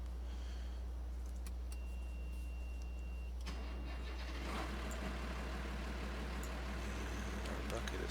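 Ford tractor engine in a farming video game cranks and catches midway, then settles into a steady mid-pitched idle over a constant low hum, with a voice talking over it.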